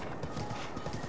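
Brief, faint clip-clop of horse hooves from Zelda: Breath of the Wild, a quick soft rhythm of steps under a low background.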